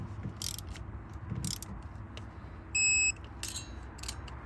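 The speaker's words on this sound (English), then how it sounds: "I'm just gonna get this to the first beep." A digital torque wrench on a Mercedes Sprinter 2.1L exhaust manifold gives one short, clear electronic beep at its set torque. Soft ratcheting clicks and shop noise surround it.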